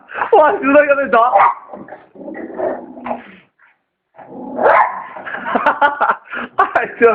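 A dog barking and yipping in excited bursts while confused by a cat, loud and close, with a person talking in between.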